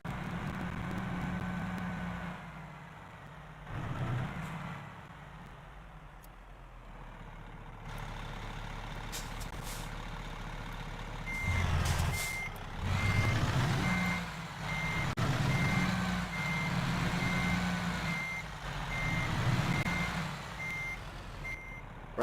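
A truck in American Truck Simulator backing into a parking spot, its reversing alarm beeping in a steady repeating pulse over a low idling engine that swells now and then.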